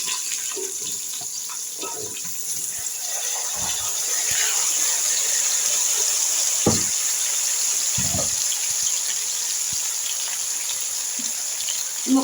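Chopped bottle gourd, okra, ivy gourd, tomato and drumstick sizzling in a pan for sambar, a steady soft hiss of frying with occasional clinks and stirring knocks.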